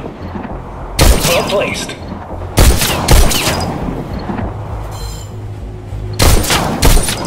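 Gunfire in the VR shooter game Bullet Train: loud bursts of rapid shots arrive in three clusters with echoing tails, while a voice speaks briefly over the action.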